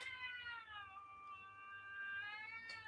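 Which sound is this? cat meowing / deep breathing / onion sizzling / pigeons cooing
cat meowing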